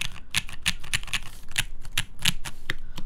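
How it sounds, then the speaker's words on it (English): Close, crisp keystrokes on a CannonKeys Balance prototype mechanical keyboard, a quick irregular clatter of roughly a dozen presses including deeper spacebar thocks, alone without talk. "Yeah, space bar does sound really nice."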